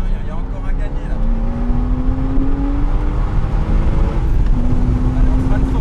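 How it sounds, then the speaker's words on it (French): Porsche Cayman S pulling hard out of a turn on a track, the engine note climbing steadily and loudly in the cabin as the car gains speed, with an instructor talking over it. "Et on accélère progressivement bien à l'extérieur."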